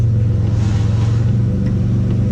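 Steady, loud mid-pitched car engine drone, revved slightly and held as the clutch is slowly let out with the brake on, continuous and close with no talk.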